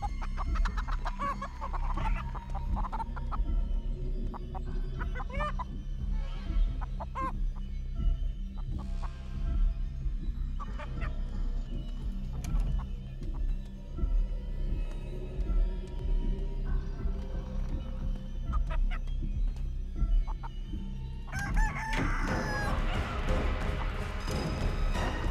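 Chicken clucking and crowing in the video game Chicken Feet, intermittent bird calls over a constant low hum, with a brighter burst near the end and no talk.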